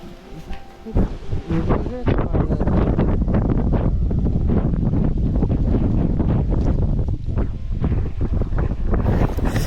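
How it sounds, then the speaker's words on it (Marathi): Strong wind roars and buffets the microphone at the hilltop Rohida Fort in Maharashtra, loud and nearly continuous with gusting surges, and a voice is briefly heard beneath it. "इथं भरपूरच वारं सुटलंय"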